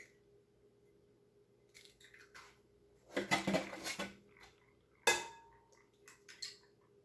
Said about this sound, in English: let's go ahead and crack a couple eggs into our bowl here